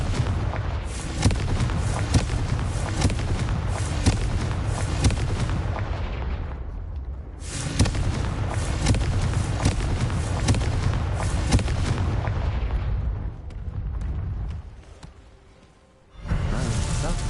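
Repeated Confringo fire spells in Hogwarts Legacy, played on hard difficulty, burst in dense, loud, continuous volleys of booming blasts for about seven seconds, a brief lull, then another long barrage that fades before erupting once more.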